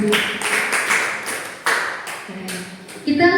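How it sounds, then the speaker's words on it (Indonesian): Clapping from an audience of parents and teachers at a school forum for Agus. Uneven bursts of claps rise and fall in waves, close and fairly loud, with a brief voice at the end. "kasih tepuk tangan Bapak Ibu buat Agus"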